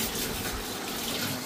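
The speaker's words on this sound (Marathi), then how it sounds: "याला स्वच्छ पाण्याने धुवून घ्यायचं आहे" Clean water gushes steadily from a tap over chicken pieces being rinsed, a close, continuous splashing rush with no pauses or talk.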